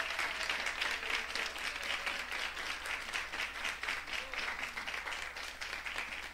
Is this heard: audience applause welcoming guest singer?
yes